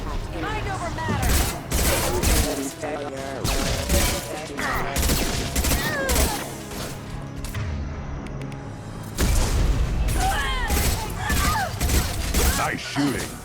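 Mass Effect 2 combat gunfire rattles in repeated loud bursts and volleys, with brief pauses between them and game voices speaking over parts of it.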